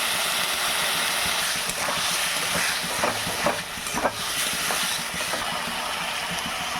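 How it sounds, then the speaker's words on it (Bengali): Coriander powder and chili powder being sautéed with a splash of water for a cauliflower curry, a steady close sizzle broken by scraping stir strokes, with no voices. "এবার একটু জল দিয়ে একটু কষিয়ে নেব"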